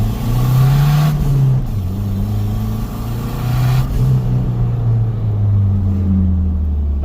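A turbocharged Ford Ranger with a GT28 turbo running 5 psi of boost on 87 octane accelerates hard, its engine droning loud and close with rising and falling pitch as it pulls through gears.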